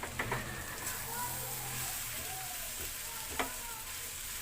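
Potatoes are added to a hot frying pan with turmeric and sizzle steadily, with soft stirring scrapes and a couple of light clinks against the pan.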